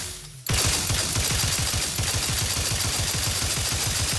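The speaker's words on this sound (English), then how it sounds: "Boy, that is a loud gun," Loud, rapid automatic gunfire from The Outer Worlds 2 erupts after a brief quiet start, then continues as a dense, steady stream of shots without pause.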